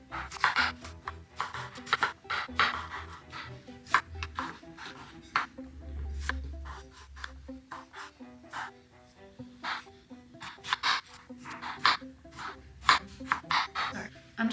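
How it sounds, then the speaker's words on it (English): Tomatoes being roughly chopped on a board, a run of irregular knife taps and thuds at close range, with pauses between bursts and a brief low rumble partway through. "I'm just roughly chopping them up because I'm just gonna put them into the cooker anyway"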